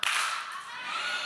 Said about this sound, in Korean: 박수 한 번 치고 아멘